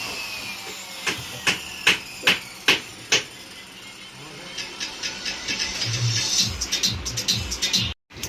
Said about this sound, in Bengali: তারপরে আঠা দিয়ে তারপরে কিন্তু পেরেক মারা চলছে